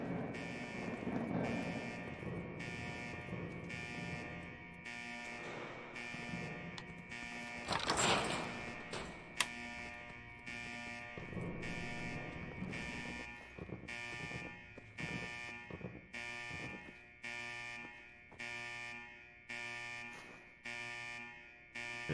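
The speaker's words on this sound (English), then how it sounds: "There's got to be a way to shut this damn alarm off." An alarm in Fallout 4 buzzes in regular repeating pulses at moderate volume, with a brief louder burst of other game noise in the middle.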